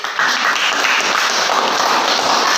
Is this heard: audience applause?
yes